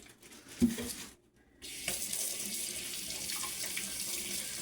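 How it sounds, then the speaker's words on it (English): A kitchen tap running water over the cut end of a celery stalk, a brief splash, a short break, then a steady close stream that continues to the end. "if you run water over the end of your celery like that"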